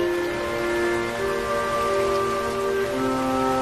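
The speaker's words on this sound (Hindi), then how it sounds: "देखा, दिन खराब होते ही बारिश होने लगी।" Rain falling in a cartoon scene, a steady even patter on surfaces with a faint tonal hum underneath, continuous throughout with no talking.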